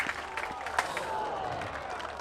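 Fans at a pickleball gold medal men's singles match applauding a nice play: a dense, steady patter of clapping from the crowd, moderately loud, with a commentator talking over it.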